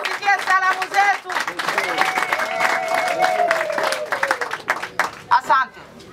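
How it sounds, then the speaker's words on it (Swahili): Crowd clapping and cheering in salute of Tshisekedi, bursts of applause mixed with shouts and a loud voice calling out over them. "Tumpigie makofi za salamu."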